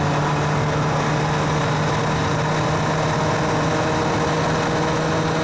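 A Honda CBR929RR sport motorcycle engine runs smoothly and steadily at idle, close by, with a constant low hum and no voices over it.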